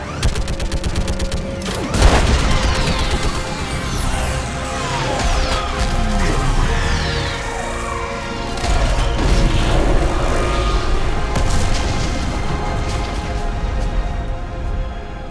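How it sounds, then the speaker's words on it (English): Heavy orbital strike bombardment pounds a living Reaper in the sci-fi shooter Mass Effect 3, a sustained barrage of loud crashing blasts and rumbling impacts, with a sharp hit near the start and continuous debris and mechanical clatter throughout. "I need an orbital strike."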